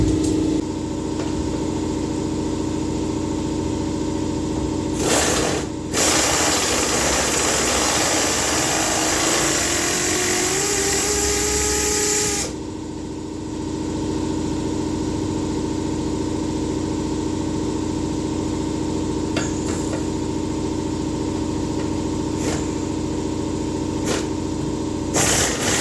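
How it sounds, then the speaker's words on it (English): An air compressor runs in a home garage during work on a Checker Marathon gasser build. It makes a loud, continuous drone throughout, with a harsher, noisier stretch in the middle before it settles back to a steady hum. "I'm actually airing up the compressor right now"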